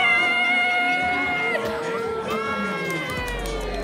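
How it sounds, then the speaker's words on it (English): A group of friends cheering and whooping, excited voices and shouts blending into a lively crowd din with overlapping high-pitched calls. "they're all clapping"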